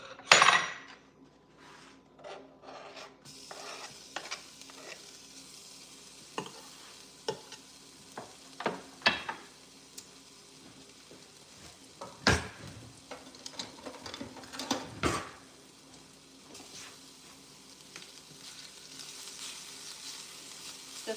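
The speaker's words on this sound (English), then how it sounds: "a little bit of sesame oil. And then I'll add in my garlic and ginger" Garlic and ginger sizzle in sesame oil over low heat, a steady frying hiss broken by irregular clinks and scrapes of a utensil stirring in the pan.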